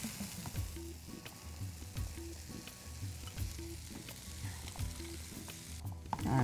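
Kabuli chickpeas frying on a high flame in a pan with masala, making a loud continuous sizzle with repeated scraping stir strokes and no talking.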